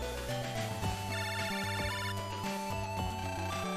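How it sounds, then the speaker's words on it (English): A phone call ringtone in Megaman Battle Network 5, a bright repeating electronic chime pattern that plays loud and steady throughout, layered over game music. "Phone call."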